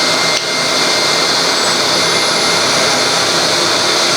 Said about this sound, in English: I'm going to use my Pro Sander Professional kit